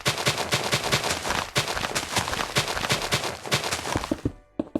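Rapid, repeated block-breaking knocks while clearing blocks in Minecraft, a fast steady series of sharp taps with a short pause partway through, close and fairly loud with no talking.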